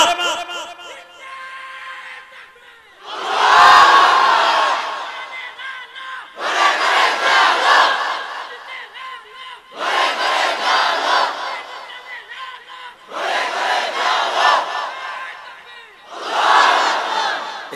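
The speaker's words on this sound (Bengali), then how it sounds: "আমার যে কলিজার ভাই তুই বসে তাকবীর দিছিস দাঁড়া তো ফাটায় দে জোরে মার" A large crowd at an outdoor religious gathering in Keraniganj roars the takbir, Allahu Akbar, in five loud massed bursts separated by short pauses. A single voice is heard leading before the first burst.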